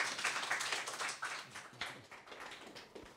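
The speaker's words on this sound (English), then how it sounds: "let's please give him a round of applause" An audience claps for a presenter at a talk on preparing for medical school, a fairly small group whose scattered, uneven claps come in bursts and thin out.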